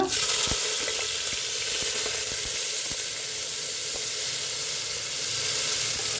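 Chopped onion hitting hot oil already crackling with curry leaves and cumin seeds, a steady loud hiss with scattered small pops and crackles, close and alone without any voice.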